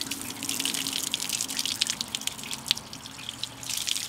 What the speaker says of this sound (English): I'm gonna grab my hose and I'm gonna put water on this panel